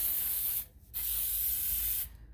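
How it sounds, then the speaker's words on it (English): Brake cleaner sprayed onto the front brake parts of a 2015 Nissan Murano during a pad replacement, heard as two loud, close aerosol hisses separated by a short pause, with no talk. "so we'll take our brake cleaner and then"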